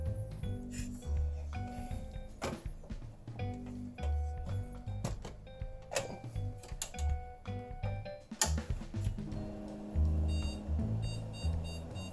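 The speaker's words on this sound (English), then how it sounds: "Uh-oh. Beeping." Repeated short electronic beeps sound at irregular intervals over low humming and clicking, close by and fairly faint.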